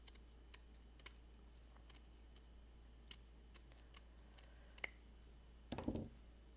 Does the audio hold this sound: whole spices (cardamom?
no